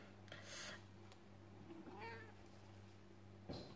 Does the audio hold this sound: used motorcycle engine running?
no